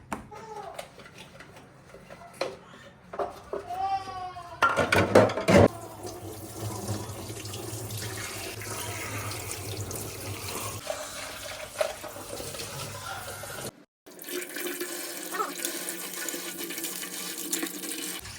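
Tap water runs into a kitchen sink while a new kitchen appliance is washed, with splashing and gurgling, clattering handling noises and a brief pause before the flow resumes.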